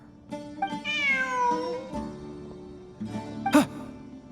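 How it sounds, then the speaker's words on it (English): Cat meowing in the video game Genshin Impact: a few drawn-out, rising and falling meows in a quiet game scene, with a brief sharp sound near the end. "Look, a cat."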